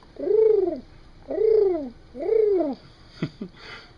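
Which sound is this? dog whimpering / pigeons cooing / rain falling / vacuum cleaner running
pigeons cooing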